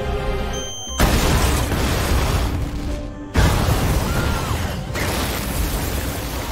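A bomb planted in a cafe explodes in a film: a loud, roaring blast fills the air, cuts off sharply, then a second heavy burst erupts and rumbles on with crackling debris noise.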